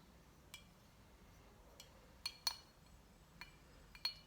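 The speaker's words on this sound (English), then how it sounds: "So I'm going to sweep the bottom of my water cup." A paintbrush taps and clinks against the bottom of a glass water cup during a painting lesson, a few sharp, quiet glassy ticks scattered over a soft hush.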